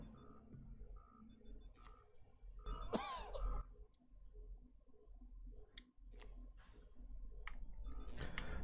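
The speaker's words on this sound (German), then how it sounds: "Der Huster hat perfekt gerade gepasst." One short, rough cough bursts out about a third of the way in, standing above a quiet background with faint scattered clicks.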